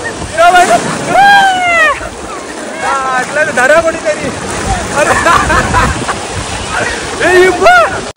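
Sea water washes in over Pirwadi beach, rolling surf and slosh beneath excited shouting and high-pitched voices of people nearby.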